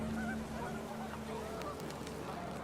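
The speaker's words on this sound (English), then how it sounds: "The wind picked up, and panicked geese appeared and quickly went." Panicked geese honk in the video game What Remains of Edith Finch, several quick nasal calls over a steady rush of wind, fairly faint and distant.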